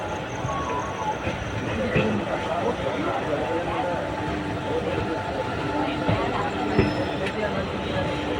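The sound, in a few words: train locomotive engine standing at Tirunelveli Junction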